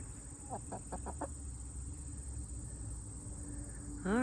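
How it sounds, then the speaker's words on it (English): A hen clucks in a quick burst of five short close calls over a steady background hum, then goes quiet, with a rising whistle-like tone at the very end. "You're a good chicken."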